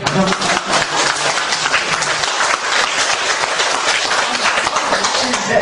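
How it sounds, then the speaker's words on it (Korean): Audience at a Won Buddhist temple ceremony in Gangneung claps together in a steady, dense wash of applause that holds evenly throughout, with a few scattered voices faintly mixed in. "박수 한번."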